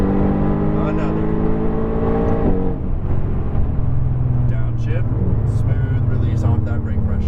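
A Mercedes-AMG GT R engine on a race track drones loudly and continuously as the car accelerates through a gear change. An instructor's voice speaks over the engine.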